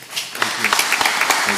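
Applause from an audience for a school board at a district board meeting, building from a quiet start into steady, dense clapping that fills the short stretch.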